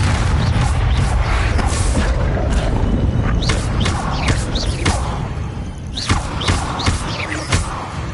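Fiery Confringo spell blasts in the Hogwarts Legacy video game, a run of loud booming thuds and cracking impacts repeating over a dense, rumbling game soundscape.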